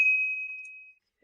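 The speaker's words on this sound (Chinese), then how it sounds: "别发了，别发了，我手机都要炸了！" A phone gives a single clear message notification ding that rings on and fades out over about a second, close and alone.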